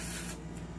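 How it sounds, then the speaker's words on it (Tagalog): Silicone oil sprayed from an aerosol can onto an airsoft pistol, a close, loud hiss for about a third of a second that then cuts off, leaving quiet room noise. "Spray po tayo rito ng silicone oil."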